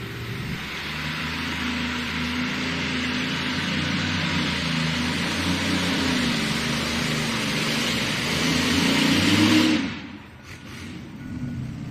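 Diesel truck engine roaring under load at a truck pull event, a loud sustained drone that builds toward a peak before cutting off abruptly near the end, leaving quieter ambient noise.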